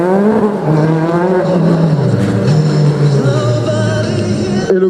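Race car finishing a hillclimb slalom run at the Val d'Hyrome, its engine loud and close, holding a steady high-revving harmonic drone that dips and climbs with the gears before cutting off abruptly at the end.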